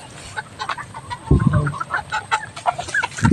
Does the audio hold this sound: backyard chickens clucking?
yes